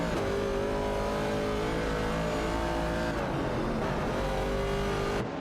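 Racing cars in an AI racing video game, including an Opel Commodore and a Holden Torana A9X, roar steadily with engine notes rising and shifting as they jostle for position, a continuous loud drone with no talking.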